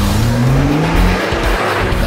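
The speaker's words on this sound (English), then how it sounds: "drive very fast, then hard on the brakes 20 times over five laps" Car driven fast on a track with repeated hard braking, a loud roaring engine with a rising drone and gritty tire and brake noise, continuous and close.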